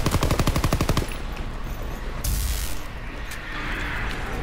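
Rapid machine-gun fire in a video game boss battle, a fast rhythmic burst for about a second, then a duller blast and ongoing noisy game ambience.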